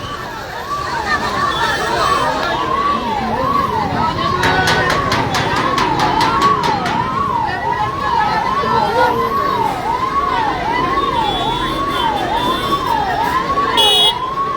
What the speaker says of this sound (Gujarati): હાલ તમે જોઈ રહ્યા છો એમ્બ્યુલન્સ માટે લોકો અહીં રસ્તો કરી રહ્યા છે.